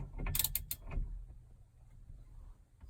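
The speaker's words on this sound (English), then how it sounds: "Now you'll want to get the bolt off." A wrench working a bolt loose from a seat mount in a 1967 Mercury Cougar, a short burst of close metallic ratcheting clicks followed by faint creaks and quiet handling.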